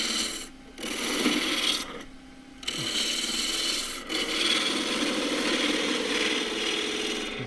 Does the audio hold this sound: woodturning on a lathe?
yes